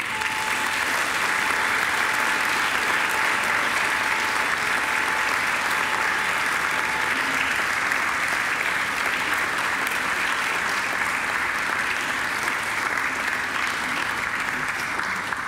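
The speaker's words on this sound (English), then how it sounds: "And now I ask you to give them a mighty round of applause." A large audience at a university graduation ceremony gives a long, sustained round of applause, thick and even clapping that stays loud and unbroken throughout with faint crowd murmur beneath.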